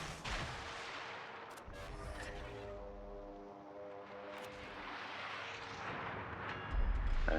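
Naval ship guns firing in the World of Warships video game, heavy booming salvos with rolling rumble and crackle, over a constant low battle drone, fairly quiet overall with a louder thud at the end.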